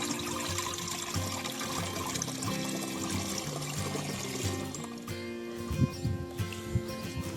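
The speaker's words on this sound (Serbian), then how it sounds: "Nastavite punjenje prskalice vodom do ukupne količine od 10 litara." Water pours into a 10-litre garden sprayer holding a mixed organic solution, a faint steady flow running throughout with a few small knocks near the end.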